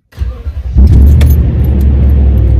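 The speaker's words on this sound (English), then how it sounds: "Start, cold start." Toyota engine cold-starting through a TRD dual exhaust: a brief cranking sputter, then the engine catches with a loud, deep, steady idle rumble close by, no talking.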